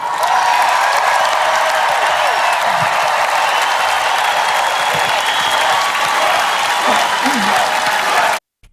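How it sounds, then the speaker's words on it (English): A large political convention crowd applauds and cheers loudly and steadily throughout, with a dense roar of clapping and voices that cuts off abruptly at the end. "Such a great moment of solidarity, and of course with the crowd chanting Trump"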